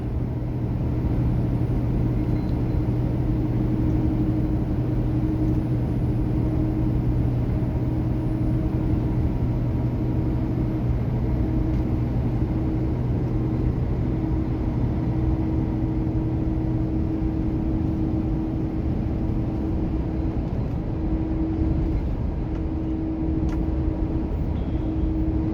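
A heavy truck cruises steadily on cruise control with a constant low engine drone and road rumble inside the cab, unbroken and even in level throughout.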